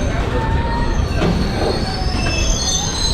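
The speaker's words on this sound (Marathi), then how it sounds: "तुम्हाला एक ट्रेन दाखवतोय जी पास होते." A passenger train passes close by at a railway station, a loud continuous rumble of wheels on rails with high metallic squealing throughout.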